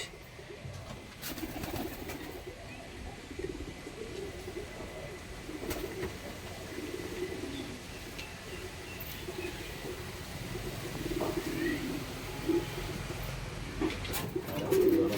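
Andhra breed pigeons cooing in a loft's female section, soft repeated low coos from several birds at moderate distance over a steady background hum, with occasional faint knocks.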